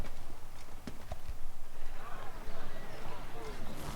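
Steady clip-clop of horse hooves at a walking pace in the video game Assassin's Creed III, close and rhythmic, with a soft ambient background.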